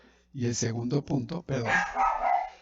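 A dog barks repeatedly in the background of a talk about the ethics of Jesus, its barks mixed under a man's continuous Spanish speech.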